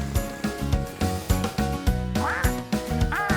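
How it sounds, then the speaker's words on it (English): A cartoon duck quacks a few times over a bouncy, rhythmic children's farm song with steady beats. "That's Dylan the duck."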